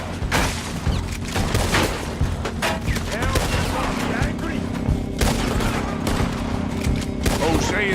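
Rapid gunfire from a Red Dead Redemption 2 shootout, loud and dense bursts of shots overlapping with booms, continuous throughout with brief speech mixed in.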